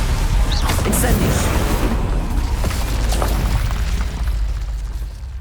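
An Incendio fire spell is cast in Hogwarts Legacy on PS5, a loud whooshing, booming burst of flame that roars for several seconds before tailing off, with a voice speaking over it.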